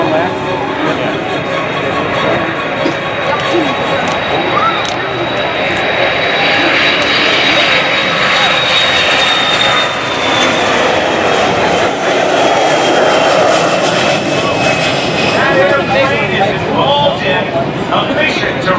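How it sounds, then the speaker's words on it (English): Turboprop engines of a C-130 Hercules roar loud and steady at the Duluth airshow, a broad continuous drone with a faint whine that swells and fades slowly as the aircraft passes, crowd voices mixed underneath. "The C-130 Hercules has been around since the 1950s."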